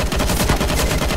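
M4 rifle gunfire in a video game, a loud, dense burst of rapid automatic shots filling the whole moment, with no voices over it.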